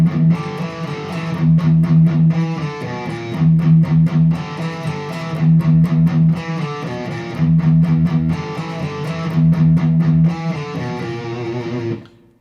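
Distorted electric guitar plays the Metallica "Seek and Destroy" riff with chugging low-E palm-muted notes and punchy repeated accents, loud and close, looping several times before stopping abruptly.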